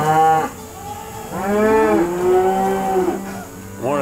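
A herd of about 400 cattle on grazed pasture: several loud, drawn-out moos from nearby cows, one overlapping another, with brief pauses between calls and no talking.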